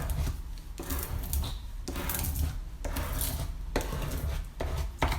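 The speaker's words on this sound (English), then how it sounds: "I'm going to take a spatula and I'm just going to gently rub all that down" A spatula is rubbed firmly over vinyl lettering on a home sign, making repeated scraping strokes in a steady back-and-forth rhythm, close and clear, with no talking.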